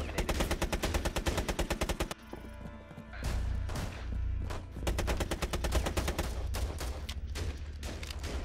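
Rapid automatic gunfire in Rainbow Six Siege, loud and close, with dense repeated bursts that break off briefly around the two-second mark and then resume as heavy, sustained firing.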